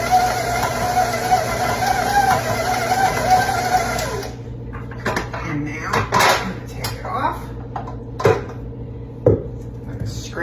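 A stand mixer with a beater attachment churns dough in a kitchen, giving a steady motor whir for about four seconds. The whir then stops, and scattered clinks and clatters of utensils and bowl follow.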